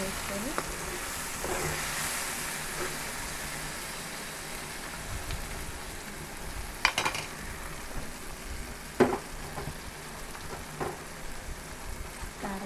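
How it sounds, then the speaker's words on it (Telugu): Tomato and capsicum curry frying with chili powder in a pan gives a steady soft sizzle close by, with occasional clinks of a stirring spoon against the pan. "కారం వేసుకొని కొంచెం 2 మినిట్స్ కారం వాసన పోయేదాకా ఫ్రై చేసుకోవాలండి"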